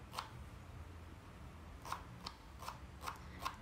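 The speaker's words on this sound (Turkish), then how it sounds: "pırasamızı güzelce ince ince kıymaya çalıştım" A knife cuts a washed leek finely on a board, giving a few faint, crisp, sparse cuts over quiet room hiss, with no talk.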